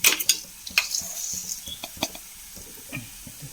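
Fenugreek seeds and coriander frying in a pan for sambar while a spoon stirs them, giving close, repeated scraping clicks over a light sizzle with no talk.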